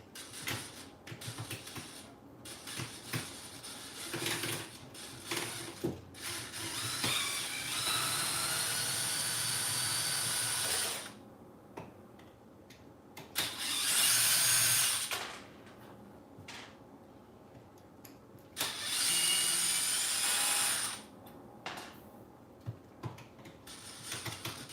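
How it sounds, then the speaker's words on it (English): Screws being removed from the differential cover of a Traxxas X-Maxx RC car, with faint scattered clicks and ticks of small metal parts mixed with three longer bursts of high whirring from a power screwdriver, close and quiet. "let's go ahead and get all of the screws out for this differential cover."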